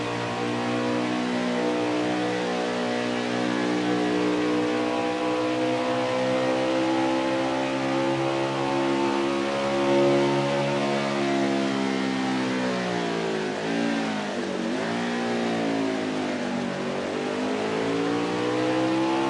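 Racing trucks at speed around the Road America circuit, a loud continuous engine drone with rising and falling pitch as they accelerate and pass, engine sound alone throughout.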